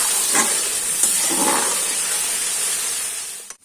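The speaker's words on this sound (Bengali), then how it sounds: "কড়াইতে আমার চিকেন ভাজা হয়ে গেছে, সেই তেলেই আমি পেঁয়াজ বাটাটা দিয়ে দিচ্ছি" Onion paste hitting hot oil in a kadai where chicken was just fried, giving a loud, steady hiss and sizzle that holds evenly before cutting off abruptly at the end.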